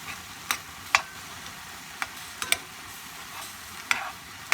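Mushrooms stirred into a sizzling stroganoff pan: a steady frying hiss with a handful of sharp utensil scrapes and clinks against the pan, spaced irregularly, close and fairly quiet.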